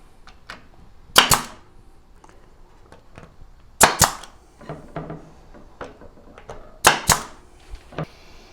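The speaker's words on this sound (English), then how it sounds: "we're just going to use our staple gun just to hold it in place while the glue dries" A staple gun fires into a shelf panel being glued in place, giving three loud, sharp snaps spaced a few seconds apart, with faint handling clicks and taps between them.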